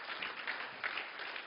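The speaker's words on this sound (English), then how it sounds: "you guys don't have to clap. I don't like claps" Applause from the audience at a sermon, a steady patter of many hands clapping at moderate volume.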